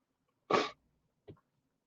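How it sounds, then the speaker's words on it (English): A single sharp sneeze bursts out close by, followed after a pause by a short sniff or breath; otherwise quiet. "I'm trying to hold the sneeze."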